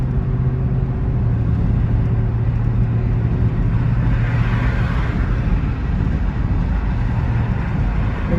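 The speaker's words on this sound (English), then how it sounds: "Traffic is worldwide the same." Steady road traffic rumbles on continuously, a dense, loud wash of engine and tire noise with a low droning hum and no voices.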